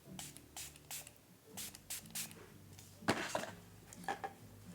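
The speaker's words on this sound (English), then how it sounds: "let's see the spray first. Okay, nice mist." Several quick hissing bursts of a makeup setting spray's fine mist pump, pressed in short irregular puffs, close and fairly quiet, with faint clinks of handling in between.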